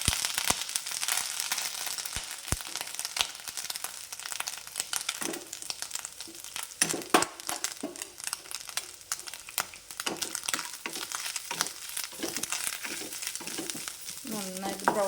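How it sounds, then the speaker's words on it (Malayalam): Grated coconut fries in coconut oil in a hot pan, a quiet, busy crackle with frequent scraping stirs; a brief voice may surface near the end. "അതിലേക്ക് നമുക്ക് തേങ്ങ ചെറിയത് ഇട്ട് കൊടുക്കാം."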